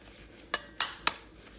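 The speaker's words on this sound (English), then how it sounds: "I'm just gonna crack my eggs." Three sharp cracks of eggs tapped against a bowl, evenly spaced and close, with quiet between them.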